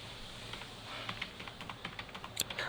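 Someone types a search query on a computer keyboard in a run of quick, light key clicks that speed up toward the end. The typing is close but quiet, with no talking.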